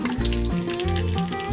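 Nigella seeds with dried chillies crackle and sizzle as they hit hot oil in a pan for a Bengali hilsa curry, a close, steady frying hiss over a background of tonal music.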